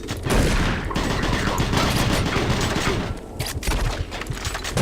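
Rapid, sustained bursts of machine gun fire from a video game, loud and continuous for several seconds with a brief dip in intensity partway through.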